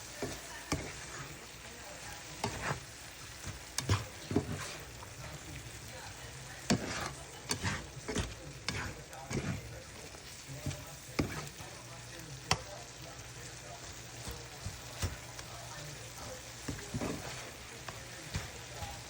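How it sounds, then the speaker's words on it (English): Ground turkey and onions with chipotle frying in a pan while being stirred, a continuous sizzle broken by repeated scraping and knocking strokes of a utensil, close and fairly busy throughout. "This is just getting the smokiness mixed in with all the meat and onions without trying to spill it from the pan here."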